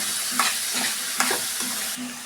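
A spoon scrapes steadily around a pan of mushroom curry as it cooks. The stirring comes in rhythmic strokes, about four or five over a couple of seconds, over a constant low sizzle and hum.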